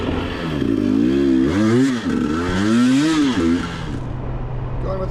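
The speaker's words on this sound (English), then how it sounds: "Going with the KTM 300 today with rally spikes." A KTM 300 two-stroke dirt bike fitted with rally spikes revs up and down nearby on a snowy trail, its engine note rising and falling in strong surges before easing to a lower idle.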